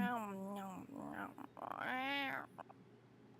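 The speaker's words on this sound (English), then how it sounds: "That sounds like a hungry kitty to me." A cat in a summer-event video game meows hungrily in drawn-out, wavering calls, two main meows close up with little else around them.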